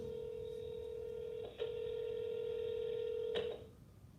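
Telephone dialing tones: a sustained steady tone broken by a brief gap, then resumes before cutting off, heard clearly over faint background hiss.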